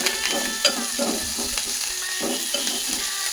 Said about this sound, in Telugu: కొంచెం కొత్తిమీర కరివేపాకు ఇందులోనే వేసేసుకోవాలి. ఇలా కలుపుకోవాలి.